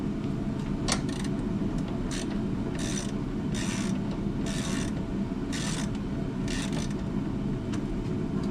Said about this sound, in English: Now I'm going to take this brace out that's right there.